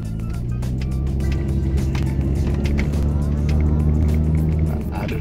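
A 2005 Mitsubishi Grandis family car pushed hard, heard from inside as a loud steady engine drone and road roar that swells toward the end, with no talking.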